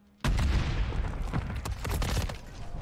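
A grenade goes off in a first-person shooter match, a sudden loud blast followed by a dense, sustained crackle of gunfire and booming shots that keeps going to the end.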